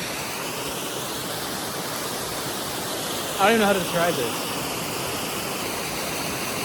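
A Smoky Mountains waterfall pours as a constant, even rushing hiss that fills the whole stretch, with someone speaking briefly over the water midway.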